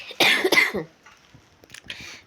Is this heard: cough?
yes